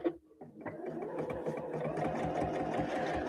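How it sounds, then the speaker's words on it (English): Sewing machine top stitching fabric pieces around a curved edge, running in a steady continuous whir after a brief start, close and fairly loud, with no talking. "then I'm going to top stitch just around that top curve"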